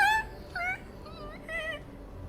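A voice imitates a sick dog with scurvy, making a short series of whimpering, yelping whines with wavering pitch, close and fairly quiet.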